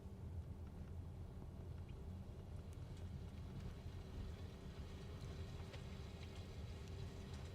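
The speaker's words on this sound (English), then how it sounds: "There's the sound of water playing through the car." Steady, low rushing wash like flowing water played through the speakers of a 2022 Kia Sportage 1.6T plug-in hybrid, continuous and fairly quiet, with a faint hum of the car interior beneath it.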